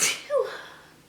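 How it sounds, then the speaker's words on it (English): A single sharp sneeze bursts out while oregano is being sprinkled over Greek-style bruschetta with tomato, basil and feta, followed by a brief trailing exhale as it fades out. "Try not to sneeze."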